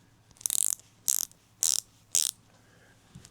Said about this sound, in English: And this is a form of ratchet.